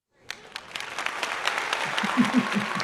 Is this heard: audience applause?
yes